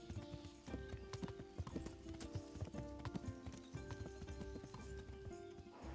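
Horse hooves clip-clopping in the video game Kingdom Come: Deliverance, a steady run of close hoofbeats with a whinny and game music tones in the background.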